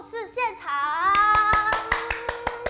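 After a brief sung or spoken voice, hands clap in an even rhythm, about eight sharp, close claps in a row to welcome a storyteller back onstage.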